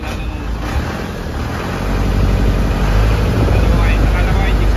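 An Isuzu 4BE1 diesel engine with a misfire problem runs at a steady idle, its low rumble rising slightly in loudness partway through, with people talking over it.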